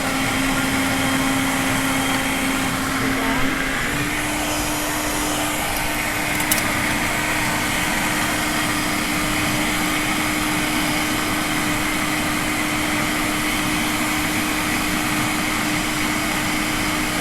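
A countertop blender runs on its smoothie setting with a loud, steady whirring drone that shifts pitch slightly early on, then holds constant for the rest of the run.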